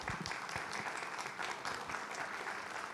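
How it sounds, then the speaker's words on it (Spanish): Steady, dense applause from a crowd at a political assembly, continuous and fairly loud throughout with no letup. "Un aplauso,"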